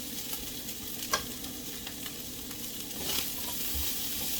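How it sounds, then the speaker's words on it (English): Spanish sweet onions sauté in a pan with a soft, constant sizzle and a few light utensil taps, close but fairly quiet, no voices. "Let it saute."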